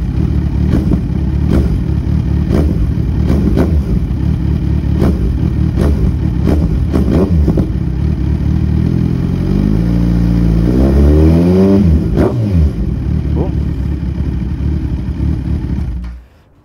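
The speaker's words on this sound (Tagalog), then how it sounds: "And this is the sound when you rev it." A Kawasaki Z1000 motorcycle with its catalytic converter deleted idles loudly and close, then gets a blip of the throttle that sweeps the engine note up and back down before it cuts off at the end.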